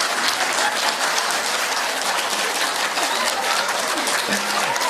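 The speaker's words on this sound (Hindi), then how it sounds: "उनके मुंह के सामने आगे ताली बजा एकदम" Partners in a Parkinson's group exercise clap hands in front of each other's faces, a dense, steady wash of many hands clapping together at once, loud and continuous throughout with faint voices underneath.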